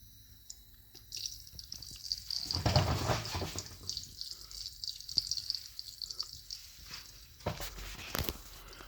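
An Arduino-controlled automatic pump, switched on by a relay to water a plant, runs with soft water drips and trickling, fairly faint and intermittent, joined by a louder splash of water about midway, with no talking.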